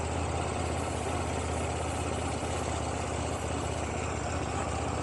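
A 2024 KTM Duke 790 motorcycle engine idling cold and running rough, a steady dense low rumble held close and loud throughout, no talk.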